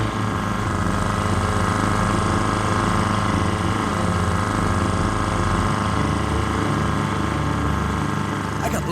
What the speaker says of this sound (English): My engine seems to be holding up, but for how long?